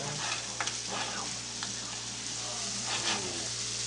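Diced red peppers sizzle and fry in a hot pan on a stovetop, a steady broadband hiss with occasional crackles and stirring clatter, close and continuous, with no talking.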